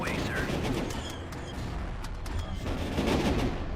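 Cannons and blaster fire pound through a Star Wars video game battle, a dense, continuous barrage of overlapping booms and crackles at steady loudness, with faint voices mixed underneath.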